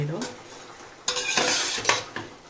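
A spoon stirs a chicken biryani mixture in a pot, with a few loud scraping sweeps and metallic clanks over a light sizzle, close by with no speech.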